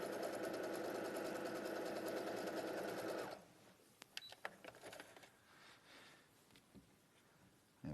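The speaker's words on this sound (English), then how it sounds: "I'm going to stitch 1/4 inch all along the top of the square." A sewing machine stitches a quarter-inch seam along the top of a quilt square, its steady motor whir running loud and continuous for about three seconds before stopping, followed by quiet fabric handling.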